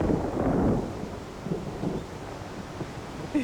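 Thunder rolling before rain, heard as a deep low rumble that swells at the start and fades into softer grumbling, with a faint windy wash behind it and no voices.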